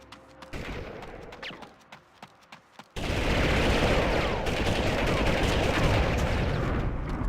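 Gunfire in Army Men Air Attack, with scattered single shots at first, then a sudden, sustained roar of heavy continuous fire and explosions that stays loud to the end.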